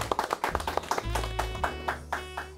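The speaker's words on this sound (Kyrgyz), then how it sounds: "кол чаап коелу." A quiz show audience claps in a quick, rhythmic run of close hand claps over low background music, with the claps fading out toward the end.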